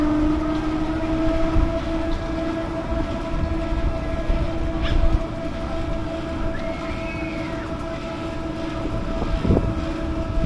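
Cannonball Express roller coaster at Pleasurewood Hills rumbling steadily along its track, a continuous loud roar with faint whining tones and occasional clanks, no voices.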